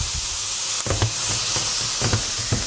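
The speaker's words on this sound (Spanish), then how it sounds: "ahora ponemos un poquito más de aceite así y pondremos los ajos, la cebolla y los pimientos hasta que quede bien pochadito" Garlic, onion and peppers sizzling in oil in a pan for spiced chicken and rice, a steady close hiss with soft clicks of stirring and no talking.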